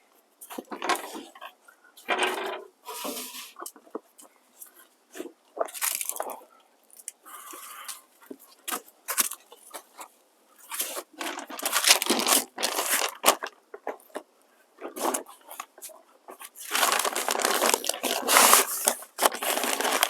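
Smoked meat being wrapped in wet, spray-dampened paper and pulled tight, giving repeated crinkling, squishing paper rustles in bursts, close and fairly loud, with no talk.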